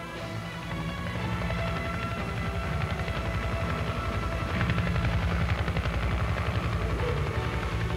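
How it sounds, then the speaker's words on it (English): Attack helicopters approach with a steady, rapid rotor thump and engine drone that grows slightly louder over the seconds, heard alone with no speech. "As the attack helicopters approach their attack positions, the scout helicopter moves to where it can observe for enemy aircraft"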